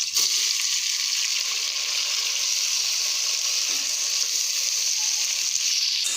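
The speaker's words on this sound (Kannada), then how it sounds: "ಈರುಳ್ಳಿ ಕಲರ್ ಚೇಂಜ್ ಆಗೋ ಕೆಂಪು ಬಣ್ಣ ಬರೋವರೆಗೂ ಚೆನ್ನಾಗಿ ಹುರ್ಕೋಬೇಕು" Chopped onions sizzle steadily in hot oil in a pan while mutton biryani is being cooked, a continuous bright frying hiss with no break and no voices.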